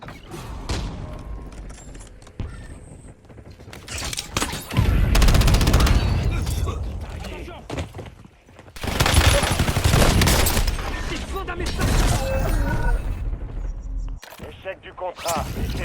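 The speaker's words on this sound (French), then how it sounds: "Je me fais tirer dessus!" Bursts of automatic gunfire from the Call of Duty Warzone video game, in loud clustered volleys with mechanical clicks and gaps between them, over game sounds.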